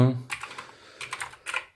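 Typing on a mechanical gaming keyboard comes in three quick bursts of crisp key clacks with short pauses between, close to the microphone, after a brief low voice at the start.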